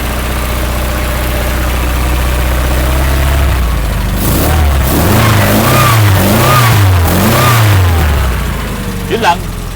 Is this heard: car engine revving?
yes